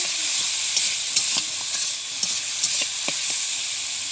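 Small fish coated in salt, turmeric and chili powder stir-fry in hot oil, a constant close sizzle broken by irregular clinks and scrapes of a spatula against the pan.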